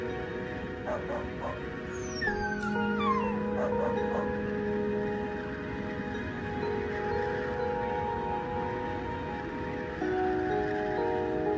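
Several dogs whimper and yip among steady background tones, with a few high whining cries early on, moderately distant and ongoing throughout.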